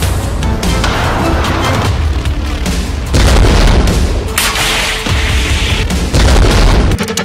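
Missile strike explosions from a Hezbollah attack on Israel with an Iranian-made Almas missile: loud, continuous booming and rumbling blasts with sharp cracks, surging louder around the middle and near the end, with no voices.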